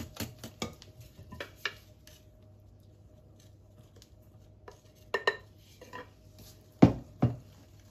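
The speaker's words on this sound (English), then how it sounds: "You want to mix well to get rid of all the lumps." Whisk or spoon clinking against a bowl while orange coconut sponge cake batter is mixed, faint scattered taps and scrapes in short clusters with quiet gaps between.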